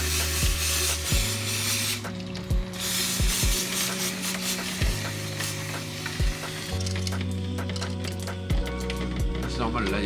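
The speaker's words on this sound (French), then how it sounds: "T'entends les roulements." Dry, ungreased bearings in a vehicle axle differential being turned by hand give a grinding, ratcheting rasp with repeated clicks, close and fairly quiet, under background hiss.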